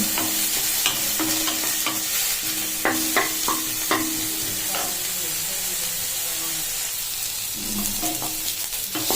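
Capsicum and sweet corn frying in a pan, continuous close sizzle broken by repeated scraping stirs and clicks of the spatula, steady and fairly loud throughout.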